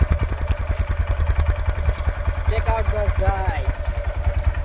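A Royal Enfield Bullet motorcycle sits running at idle nearby, its single-cylinder thump beating in a steady, loud rhythm throughout while someone talks briefly over it.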